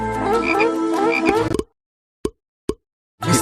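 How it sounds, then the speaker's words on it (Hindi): Loud, close frogs croaking in a dense chorus, then sudden silence broken by two sharp pops before croaking resumes. "तब उसने मिस्रियों के घरों को मेंढकों से भर दिया।"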